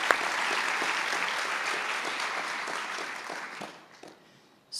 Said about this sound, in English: let's just a round of applause for all of our speakers